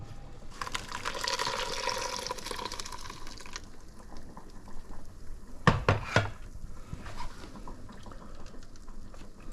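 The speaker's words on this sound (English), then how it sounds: "I'll just pour it into this muslin bag" Coconut milk pours from a blender into a muslin nut milk bag, a steady liquid rush lasting a few seconds, then softer trickling and dripping with a couple of brief clinks of dishes.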